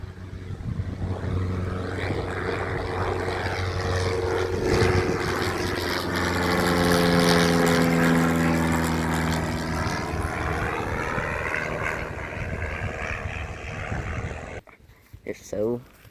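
A propeller airplane doing a touch and go in a 15-knot crosswind, its droning engine loud and sustained, rising and shifting in pitch as it passes, with people talking over it before it fades out.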